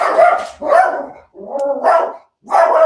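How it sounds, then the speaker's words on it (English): A dog barks in four loud, close bursts spaced by short pauses, each a rough, harmonic woof heard alone indoors in an office with no talking. "So I apologize for the barking."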